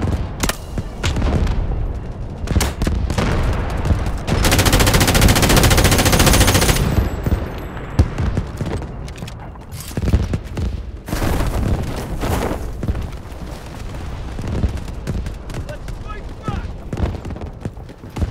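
Incoming artillery in Delta Force lands as a sustained roaring barrage of booms and blasts, mixed with heavy machine-gun fire and scattered explosions throughout a loud battle, with voices speaking over the combat.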